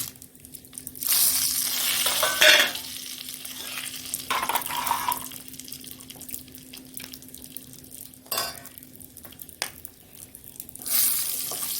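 Whole cumin seeds, a couple of bay leaves and a dried red chili crackle and sizzle in hot oil, with bursts of frying, stirring scrapes and a faint steady hum in the background.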